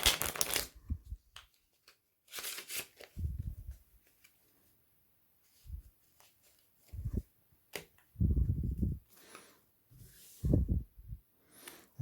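A deck of playing cards is put through a Guy Hollingworth false riffle shuffle, held in the hands: several sharp rapid riffling bursts separated by quiet pauses and soft card handling, close and clear.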